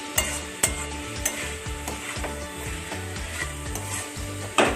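A thick spice paste for a cabbage and potato dish being sautéed and stirred in a pan, with steady sizzling under repeated scraping strokes and a few sharp clinks of the spatula against the pan, no voices.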